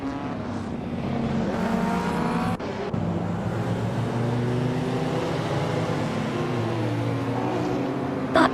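Engines of racing cars, including a 1988 Porsche 944 Turbo, roar steadily in a racing video game, a continuous loud drone with shifting pitch as the pack holds close, a brief dip midway and a slight surge at the end.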